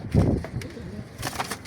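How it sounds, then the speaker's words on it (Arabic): A pigeon gives a soft, low coo nearby, followed by faint rustling and a few light background sounds. "هنا في حمام؟ هنا في حمام."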